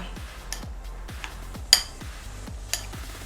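Seasoning is mixed quickly in a bowl, a spoon tapping and clinking against the side in a steady rhythm of light, close knocks, with one brighter clink standing out, and no voices.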